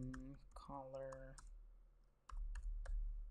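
Someone types on a computer keyboard in short bursts of close, crisp clicks, with a person speaking at the start.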